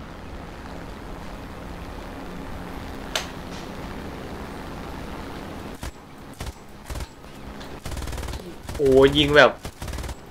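Aircraft machine guns fire from a Bf 109 fighter in the War Thunder air combat game, a dense, steady rattle for several seconds that breaks into short bursts, with a man briefly exclaiming near the end.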